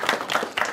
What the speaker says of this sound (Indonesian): Tepuk tangan untuk narasumber kita, Ustaz Insan Ahmad Soleh.